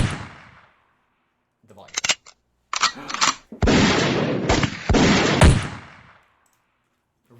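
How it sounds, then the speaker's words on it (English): Gunshot sound effects fire in a few sharp, loud bursts and a longer stretch of dense noise, with voices talking in between. "I like how there's gunshot and there's real gunshot."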